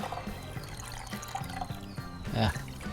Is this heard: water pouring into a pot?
yes